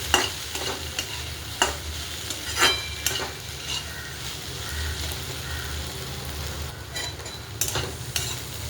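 Okra stir-fry with coarsely crushed peanuts stirred in a pan: repeated scraping strokes of the spatula over a constant frying sizzle, close and moderately loud.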